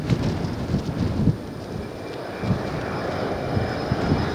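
An airplane landing on the runway at Lihue airport on Kauai, a steady low engine rumble with a few dull thumps, heard from a distance and fairly loud, with no talking.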